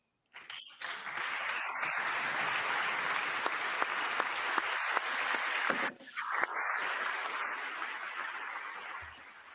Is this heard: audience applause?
yes